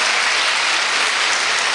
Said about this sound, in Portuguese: Vamos aplaudir esse povo aí também